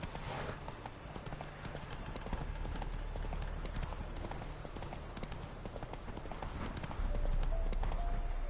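Roach the horse galloping in The Witcher III, a fast, steady clip-clop of hooves throughout, close and continuous over a low ambient game background.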